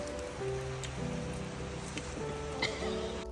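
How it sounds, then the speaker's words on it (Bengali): Rain falling steadily on a surface during a park outing in Nagano, Japan, near a maple-viewing lake, a soft continuous patter with a few brighter drops. "বৃষ্টি আসছে"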